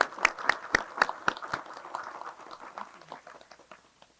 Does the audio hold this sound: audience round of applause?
yes